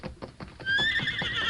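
Radio drama sound effect of horses: a steady run of hoof clip-clops, then a loud, sustained neigh rising over the hoofbeats, with no voices.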